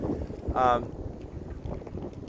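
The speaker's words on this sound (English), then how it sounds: "A little windy. I hope the audio still comes through." Gusty wind buffets the microphone with low rumbling noise, a brief harmonic sound cutting through near the middle.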